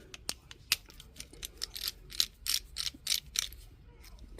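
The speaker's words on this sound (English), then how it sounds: "Now what we need to do is go ahead and change our cutting disc" Changing the cutting disc on an angle grinder brings a quiet, close series of irregular metallic clicks, ratcheting snaps and small clanks from handling the tool and its parts.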